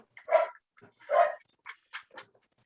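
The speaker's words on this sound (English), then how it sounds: "My dog is going crazy." A pet dog barks indoors, two loud close barks followed by several shorter, higher yips and whines, heard alone without talk.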